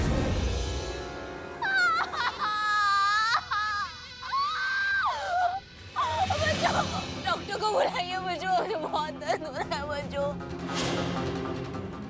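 A woman who has fallen down the stairs and is clutching her stomach screams and wails in pain, long rising and breaking cries, while other voices talk urgently around her in a drama scene.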